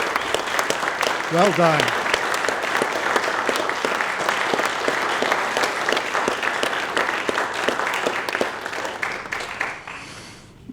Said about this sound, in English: let's give these folks a round of applause for doing darn near the impossible